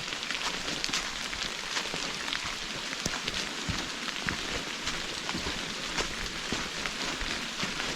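Rain falls on the leaves of a rhododendron tunnel, a dense, steady patter of close drops and crackling hits, continuous throughout and fairly loud, with no speech.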